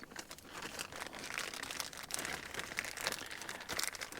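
Plastic food pouches crinkle and rustle steadily at close range as food is poured from one pouch into another during truck camping, a soft continuous crackling with no talk.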